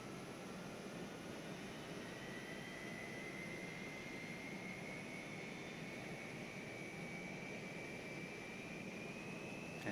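A Boeing 737-200 jet engine number 2 spooling up during start in a flight simulator game, a steady broadband roar with a slowly rising whine held throughout, with no talking.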